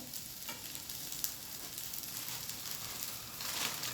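Onions frying in a pan while making a potato, onion and gram flour dosa, a steady crackling sizzle running throughout at moderate level with no talk.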